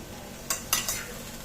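A spoon stirs mixed vegetable sabji in a pan: three quick scraping strokes close by over a faint background, with no talk.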